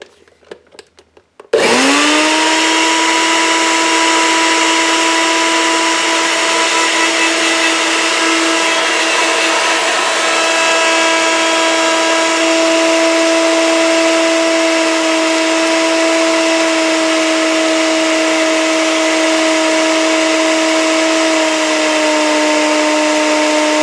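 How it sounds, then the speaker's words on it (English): A Magic Bullet blender pureeing sorrel starts abruptly after a brief quiet moment, then runs as a loud, steady motor whine with a constant pitch and grinding buzz for the rest of the clip. "they are ready to be pureed in a magic bullet blender"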